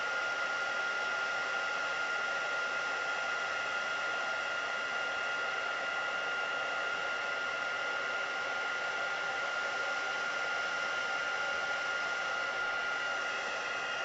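Heat tool embossing powder on a stamped card, a steady, unbroken blowing whir like a hair dryer, close and constant for the whole stretch with no talk.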